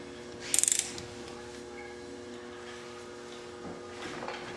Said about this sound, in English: 3/8" drive ratchet.